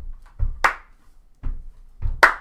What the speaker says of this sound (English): This involves stomping your feet, clapping your hands as you do it.